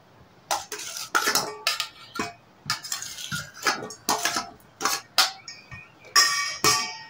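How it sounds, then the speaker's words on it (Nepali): Cucumber, chilli and onion are mixed by hand in a bowl for a spicy Nepali chatpate snack, with close, rhythmic clinking and scraping strokes coming in quick bursts, alone without speech. "त्यसलाई हामी मिक्स गर्छौँ यो काँक्रा गरेर।"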